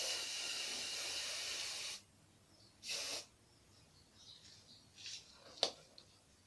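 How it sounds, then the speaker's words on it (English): An aerosol spray can hisses onto a boot in one long steady burst, then gives a few short, quieter sprays, close to the microphone, with no talking. "So I sprayed the first shoe."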